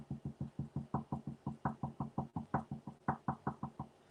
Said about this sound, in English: That knocking noise is just my pencil hitting my wooden table.